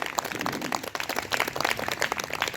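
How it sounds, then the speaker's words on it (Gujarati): Loud applause from a group in a yoga class, steady dense clapping that goes on throughout without a break. "જોરદાર તાળીઓથી બતાવો"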